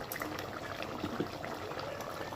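Khichuri bubbling in a pot, a steady soft simmer of small liquid pops and gurgles, close and fairly quiet with no voices over it.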